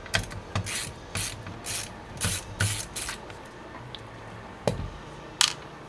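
Screws being driven by hand into the back plate of a desktop computer build, giving a series of short scraping, ratcheting metal-on-metal turns with brief pauses between them, close up and with no talk.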